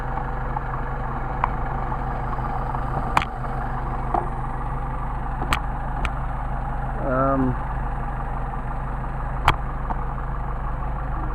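A Mercedes 190SL engine on Solex carburetors idling steadily with a low, even rumble, close by and sustained, broken by occasional sharp ticks and clicks.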